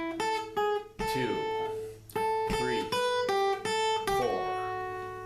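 Guitar playing a short melodic phrase from a song, clear plucked notes and ringing chords in a moderate, even rhythm, up close, with a voice briefly counting partway through.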